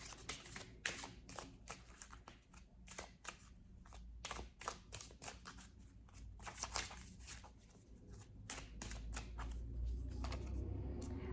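Romance angel cards being shuffled by hand, a close, quiet run of rapid riffling flutters and soft taps in bursts, with no talking.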